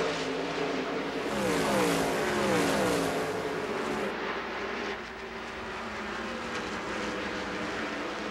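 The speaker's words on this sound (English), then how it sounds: "Here's Tom Wood trying to hold off Aaron Fike down the backstretch" Open-wheel race cars of the 2003 IRL Infiniti Pro Series roar down the backstretch at Gateway International Raceway, a loud sustained engine drone with rising and falling pitch as cars pass close by, fading slightly after midway.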